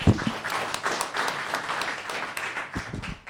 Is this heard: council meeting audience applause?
yes